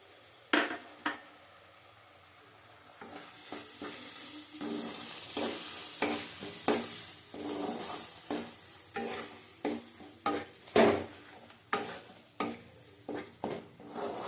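Sour yogurt sautés in a hot pan for shahi aloo dum, sizzling steadily up close while a spoon scrapes and knocks against the pan in repeated, fairly regular stirring strokes.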